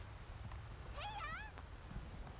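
A cat meows in a video game trailer, a single wavering cry about a second long, fairly clear over a low rumbling background.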